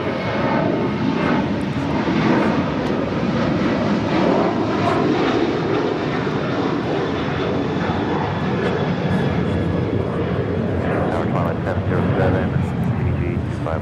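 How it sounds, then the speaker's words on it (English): A Boeing 737-800 of American Airlines departs Los Angeles International Airport with a loud, continuous turbine roar and a faint high whine, while someone talks steadily over it. "This is American Airlines 2780 departing to Austin on the 737-800."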